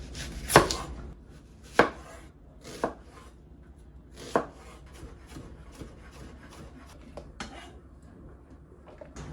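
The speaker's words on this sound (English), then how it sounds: "I'm going to chop some of the veggies for the veggie stew I'm gonna make." A knife chops through a white onion on a board, with several crisp, spaced cuts early on, then fainter, quicker taps and slicing sounds, close up with no talking.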